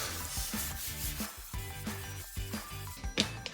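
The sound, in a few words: sanding a bathroom wall before painting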